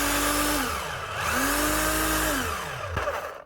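A repaired old Bosch 1130 EVS rotary hammer running close by with a loud continuous motor whine that dips and rises in pitch, with a sharp knock near the end before it winds down.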